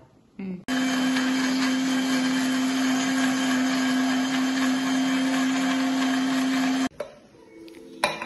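An electric mixer grinder grinds spices into a hot masala paste. It starts abruptly with a loud, steady motor whine that holds for about six seconds, then stops, leaving quieter knocks and handling noise.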